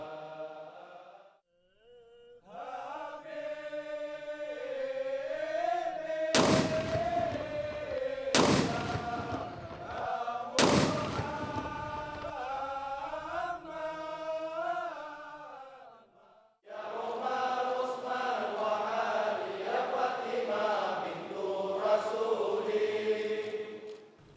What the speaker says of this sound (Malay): diikuti dengan tembakan meriam